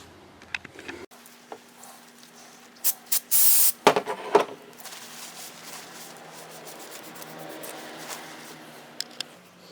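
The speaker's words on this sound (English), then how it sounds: "grease off of there with some brake parts cleaner" Brake parts cleaner hisses out of an aerosol can onto a rear brake caliper of a Chrysler Town & Country, a few short close sprays with one sustained burst in the middle, then wiping and rubbing sounds under faint background noise.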